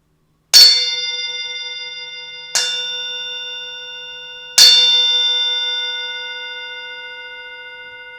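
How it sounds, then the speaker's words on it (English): A meditation bell is struck three times, each bright metallic strike ringing out with a long, slowly fading shimmer before the next. The strikes come at even intervals and sound clear and close in a quiet room. "You're going to ring a bell 3 times"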